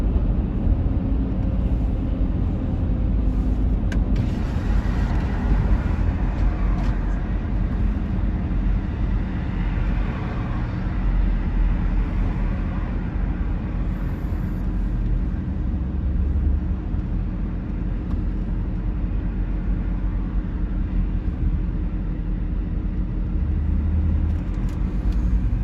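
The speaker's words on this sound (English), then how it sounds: "Starting to catch up to the traffic." Steady road rumble from inside a moving car, a continuous low drone of engine and tyre noise with distant traffic sounds around it, unbroken for the whole stretch.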